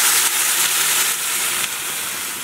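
Water pours into a cooking pot of rice, lentils, vegetables and turmeric on a gas stove, a steady loud hissing rush with bright splashing that holds for the whole span, with no talk.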